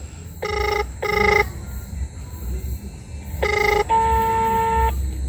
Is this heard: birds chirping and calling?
no